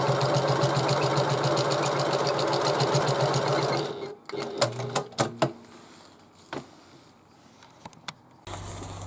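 A sewing machine stitching darts on a bag runs in a fast, even rhythm of needle strokes for about four seconds, then stops, leaving scattered clicks and handling knocks.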